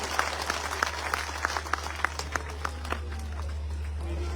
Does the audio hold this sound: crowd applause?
yes